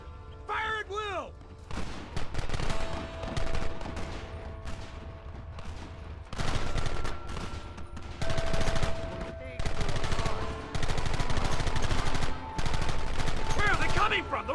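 Repeated gunfire in Red Dead Redemption as riflemen fire at targets on the horizon: rapid volleys and sustained crackling bursts that return again and again, with a few shouted voices in between.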